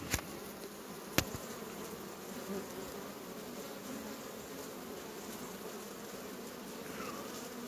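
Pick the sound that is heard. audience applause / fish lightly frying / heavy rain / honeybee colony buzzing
honeybee colony buzzing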